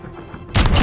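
A loud, close gunshot burst from a sniper rifle in Call of Duty Modern Warfare erupts after a short stretch of quiet game ambience, with a booming, sustained crack.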